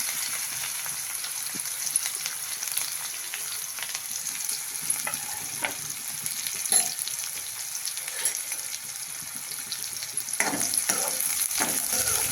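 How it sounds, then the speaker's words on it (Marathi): Chopped onion fries with cumin seeds in a pan, a soft, crackly sizzle broken by scattered scraping stirs and a few louder clatters toward the end, with no one talking. "कांदा परतून घेऊ आपला"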